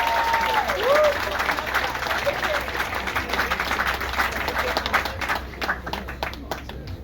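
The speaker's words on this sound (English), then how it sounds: "Give a big round of applause." Audience applause fills a ceremony honoring a civil rights leader at a plaque unveiling, steady dense clapping from a crowd throughout, with a voice briefly audible at the start before the ovation thins slightly near the end.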